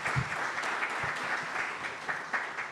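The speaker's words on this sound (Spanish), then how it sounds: "Pido un aplauso para recibirlo e iniciar la conferencia." An audience applauds steadily at the start of an academic history lecture, dense clapping filling the room at an even level for the whole stretch with no voices over it.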